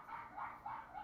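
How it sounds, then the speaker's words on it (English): A pet dog barks softly in the background of a home, four faint yips in an even rhythm, heard alone and at a distance. "I don't know if you can hear my dog in the background."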